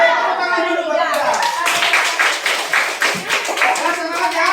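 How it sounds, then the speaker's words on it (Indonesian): A classroom of pupils claps for their group during a lesson discussion, a short burst of hand claps under children's voices and a teacher talking. "tepuk tangan dulu buat kita"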